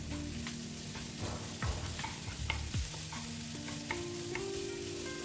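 Crushed ginger and garlic sauté in a pan with a constant low sizzle, broken by repeated scraping strokes of a stirring spoon and occasional clicks, with no one speaking.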